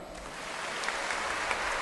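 A church congregation at a sermon claps together, a dense, continuous patter of many hands at moderate volume filling the brief moment.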